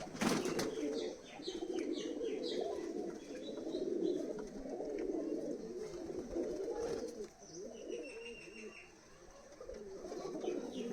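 Kaldoma pigeons flying and settling on a perch, with soft cooing and brief wing flaps against a steady low outdoor murmur of birds.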